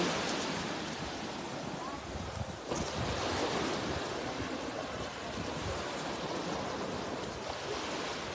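Ocean waves wash onto a beach shore in a steady, loud broadband roar with gusts of wind across the microphone, continuing without pause for the whole stretch.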